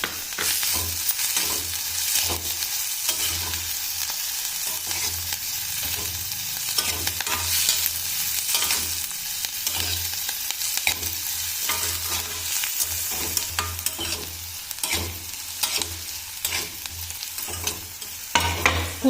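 Cumin seeds frying in hot oil in a pan while cooking batata methi, giving a steady, close sizzle with light stirring scrapes throughout and no talk.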